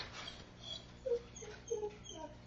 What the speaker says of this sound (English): The dogs are getting restless.